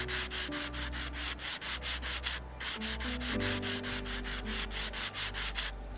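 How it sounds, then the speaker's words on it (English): Sandpaper scrubs rails in the video game Train Station Renovation, a steady, even run of quick back-and-forth rasping strokes, close and continuous with a brief pause midway, over a low background hum. "Let's hit it with that sandpaper."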